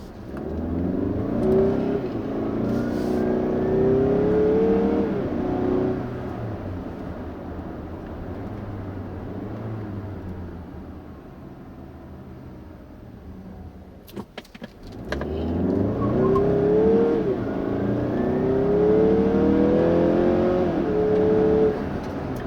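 A 2016 Mazda CX-9 Signature crossover's turbocharged engine pulls hard at full throttle, rising in pitch through two long sweeps toward about 5,500 rpm, separated by a brief shift pause, loud and close inside the cabin.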